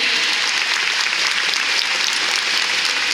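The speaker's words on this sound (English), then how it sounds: "Let's have one more round of applause for our volunteers." Audience applause for volunteers at a killer whale show at SeaWorld San Antonio, a dense, steady wash of many hands clapping together, loud and sustained throughout with no break.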